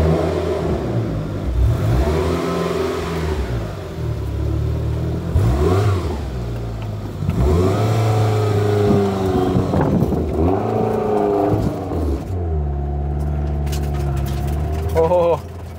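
A Mitsubishi Eclipse GSX on freshly fitted tires drives along with its engine rising and falling through repeated revs and shifts, the road and drivetrain noise close and prominent throughout.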